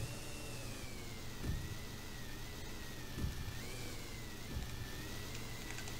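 A snowmobile engine in the video game Sled Storm drones steadily at a low, even pitch, with a few brief thumps and slight rises in revs.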